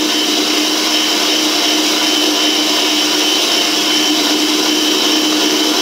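An electric mixer runs at a higher speed while whipping frangipane cream, a loud, steady, unbroken motor whir close by with no talk.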